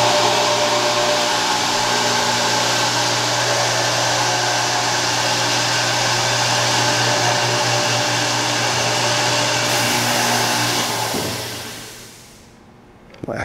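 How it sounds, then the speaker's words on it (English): A SCMI Technomax MB21 vertical and horizontal line boring machine runs its spindle motor after the pneumatic hold downs engage, making a loud, steady motor drone that holds for about eleven seconds and then winds down. "Those hold downs are going to automatically come down, and your spindle will come up and motor will turn on."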